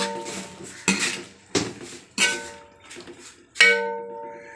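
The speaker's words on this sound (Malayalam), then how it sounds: "ഒന്ന് ഇളക്കി കൊടുക്കണം" A spoon stirs a curry in a metal pot, striking the rim in a few sharp, ringing clangs with scraping in between. The sounds are close and moderately loud, spaced about a second apart.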